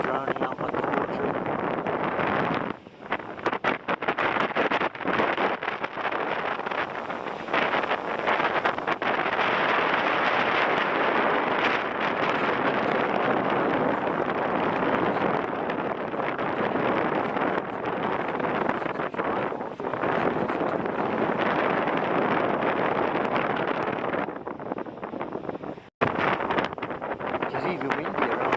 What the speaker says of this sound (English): Overcast, very windy day